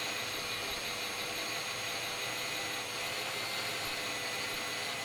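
A loud, steady mechanical whine and grinding hum of a Vevor magnetic drill press drilling continuously, with no talking.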